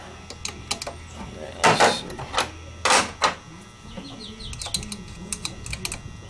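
A ratchet works the 5/16 bolt on the back side of a 2.3-liter Ford Ranger throttle body, giving close, sharp clicking bursts with a few louder clunks between quieter ticks.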